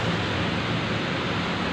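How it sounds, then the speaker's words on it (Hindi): Light rain falls as a steady, even hiss with no distinct drops, soft and continuous throughout, with no voices. "हल्की हल्की बारिश भी हो रही है"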